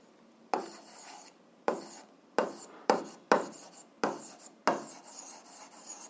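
Notes written by hand in a physics lesson: a series of about eight short, sharp scratching strokes at an uneven rhythm, close and clear with no talking.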